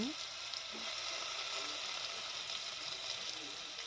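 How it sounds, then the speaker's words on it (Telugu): Raw prawns frying in a ladleful of oil with a little turmeric in a pan on the stove, a steady close sizzle with faint stirring scrapes throughout. "ఒక గరిటె నూనె వేసి కొద్దిగా పసుపు వేసి మనం ముందుగా సిద్ధం చేసుకున్న పచ్చిరాయిల్ని వేసేసి"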